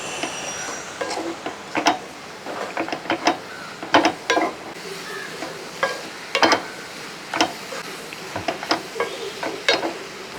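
Chopped brinjal with ground paste and salt is stirred in a pan, with close, irregular scraping strokes and soft clatter over a faint sizzle.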